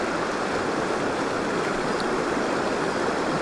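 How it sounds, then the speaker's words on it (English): A mountain stream in Te Urewera, New Zealand, rushes steadily where it joins the main river, a dense, constant close wash of flowing water with no talk. "Well, I like this stream already."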